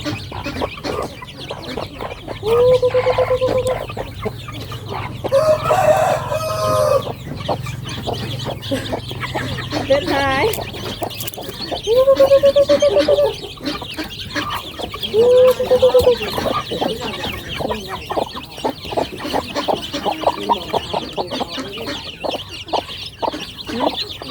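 Hens cluck and a rooster crows repeatedly nearby, several drawn-out calls rising over a busy farmyard background with occasional faint voices.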